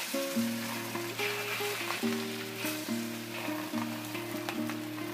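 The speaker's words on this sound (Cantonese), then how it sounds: "倒咗落去煎咧，雞蛋咧就揾個鑊啷下佢" An egg fries thinly in a tilted wok, giving a steady, close sizzle that runs throughout beneath a layer of sustained tonal music.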